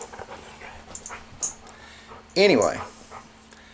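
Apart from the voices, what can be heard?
dogs whimpering and moving around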